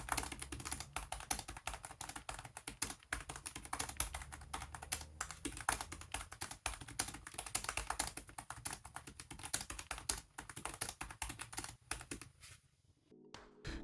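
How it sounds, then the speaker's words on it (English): Rapid, steady typing on a 2020 Dell XPS 2-in-1 laptop keyboard with shallow, bumpy keys, a dense run of close, crisp key clicks that stops abruptly near the end. "They're quite satisfying to type on with a sort of bump with each key press."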